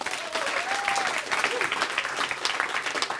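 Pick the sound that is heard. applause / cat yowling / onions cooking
applause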